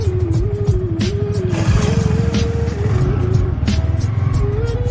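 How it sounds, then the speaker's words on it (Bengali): A car's engine starts and idles steadily up close, a low continuous rumble with a faint wavering tone riding above, and a person talks briefly over it. "এই গাড়ি স্টার্ট দিলাম, গাড়ির সাউন্ডটা শুনে যাবে"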